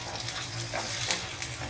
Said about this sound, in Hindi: अब प्याज हल्की फ्राई हो गई है तो मैं इसमें अदरक लहसुन का पेस्ट डाल दूंगी।